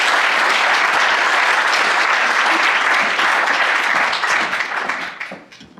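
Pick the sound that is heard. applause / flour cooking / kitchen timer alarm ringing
applause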